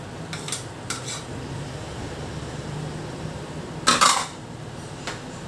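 Fried potatoes tipped into a cooking pot, a few light clinks of utensils followed by a brief clattering tumble of food into the pot over a low steady background hum, no talking.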